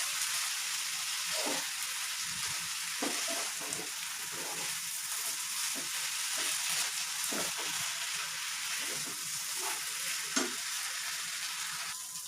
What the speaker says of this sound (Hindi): अंडा ये चॉप किया था, अब वो डालते हैं। इसको मिक्स करते हैं।